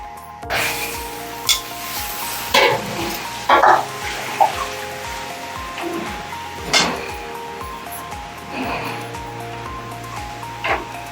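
Sura puttu, shark meat puttu, stirred as it fries in a pan, heard as a steady sizzle with repeated scraping strokes and occasional louder clanks, close by.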